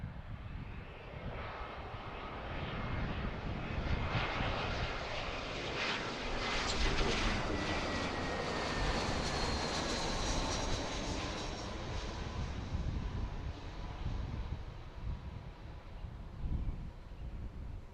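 An Airbus A319 airliner at Philadelphia International Airport, heard from Fort Mifflin, fills the air with a loud, continuous engine roar that swells slightly midway and holds steady for the full length.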